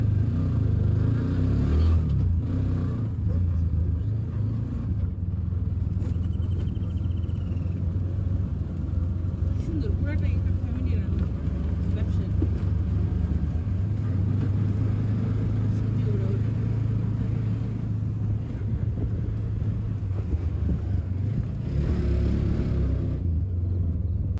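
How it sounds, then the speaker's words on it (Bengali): A tuk-tuk carries passengers toward the Nine Arch Bridge viewpoint near Ella, Sri Lanka, its small engine droning and rumbling steadily from inside the cabin, with road noise and a voice talking over it. "তো আমরা একটা টুকটুক নিয়ে 9 আর্চ ব্রিজের যে ভিউ পয়েন্টটা আছে সেটা পর্যন্ত গেলাম"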